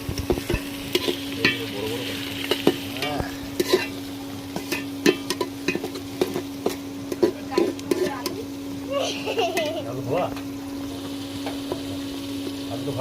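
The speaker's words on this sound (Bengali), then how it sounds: "দেখুন পেঁয়াজটা কিভাবে ভাজা হচ্ছে। পেঁয়াজটা এইভাবে ভাজা করতে হবে।" Onions fry in a pan for a mutton kosha, giving a steady close sizzle broken by repeated scraping and clacking stirs, with people talking over it.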